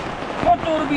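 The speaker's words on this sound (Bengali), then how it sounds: "আমরা বৃষ্টিতে আটকা পড়ে গেছি।" Rain falling in the hills of Sajek Valley, a steady, close hiss of drops on surfaces over a brief moment, fairly loud and even.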